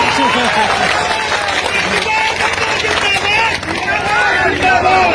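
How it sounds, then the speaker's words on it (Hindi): At a Bilaspur gathering about employee pensions, a large audience claps loudly and continuously, with crowd voices mixed into the dense, sustained noise. "जब ताली बजाइए तो जम के बजाइए, चिटिर पिटिर नहीं बजाइए"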